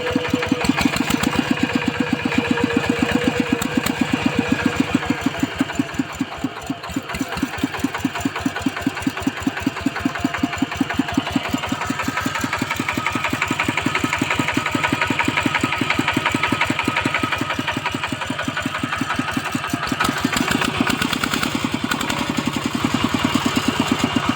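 A Kubota 9 hp walk-behind tractor with steel wheels runs steadily close by, its single-cylinder engine thumping in a fast, even chug that holds for the whole stretch with no talk over it.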